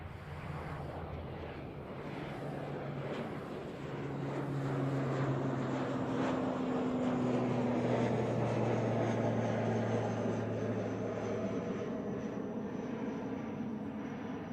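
ATR turboprop airliner taking off at Christchurch Airport, a steady droning engine roar with a propeller hum that swells and then holds, heard from a distance outdoors with some wind noise.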